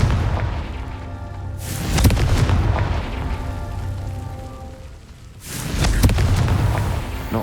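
A Confringo explosion spell goes off in the video game Hogwarts Legacy, with two heavy booming blasts and a rumbling tail between them, loud and close.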